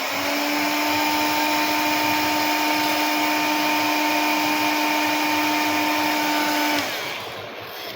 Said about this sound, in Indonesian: Kita akan blower di bagian sensor suhu atau di NTC-nya.